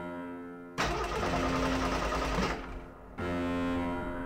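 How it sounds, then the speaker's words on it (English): A helicopter in the video game They Hunger starts up with a loud, buzzing mechanical whine that cuts in abruptly, drops off briefly and then resumes, sounding more like a car engine than rotors. "as he's starting up the helicopter, I have always heard the strangest sounds before it actually gets into full speed propelling."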